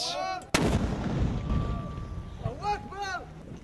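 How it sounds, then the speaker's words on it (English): Mortars fire into the city of Sirte during fighting in Libya: a single sharp, loud outdoor blast lands early, then a rolling echo fades under wind noise, and someone speaks in the background near the end. "They're aiming mortars into the city to unsettle the Gaddafi loyalists whilst they wait for the final offensive."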